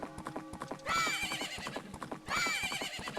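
A horse in Majora's Mask gallops with steady, rapid clip-clop hoofbeats while two loud, bright neighs ring out near the start and again toward the end.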